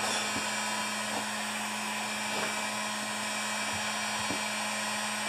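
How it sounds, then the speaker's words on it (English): A blower runs on its cool setting during work on a 29-year-old Rally electric-start mower, giving a steady, loud, close-up whoosh with a constant tone and occasional faint clicks. "this blower has a cool function when you're not using it"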